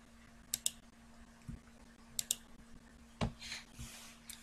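Computer mouse clicking to select emails in Thunderbird, a few sharp, close clicks, some in quick pairs, spread across a few seconds in a quiet room.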